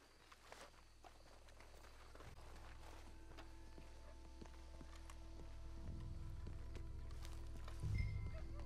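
Horse hooves walking in Red Dead Redemption 2, soft scattered clops on the ground over a quiet outdoor ambience with a low hum, faint at first and a little louder with a brief thump near the end, no talk.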